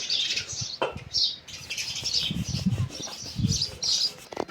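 Pigeons in a home loft flapping their wings in several close fluttering bursts, mixed with soft rustling and faint chirps and coos.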